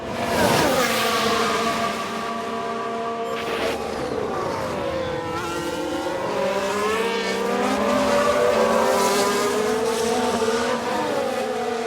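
Race car engines in the F1 Manager 22 video game, a loud continuous roar of several cars with shifting pitch sweeping past, as wheels lock up under braking.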